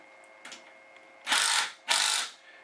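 A wrench works a pump bracket bolt on a Chevy small block engine, a couple of faint clicks followed by two louder, longer ratcheting bursts close by, with no talking.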